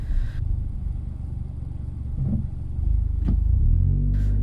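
A car engine pulls away on a hill start in a town centre, a steady low rumble that swells as the accelerator is pressed, close and continuous with no talk.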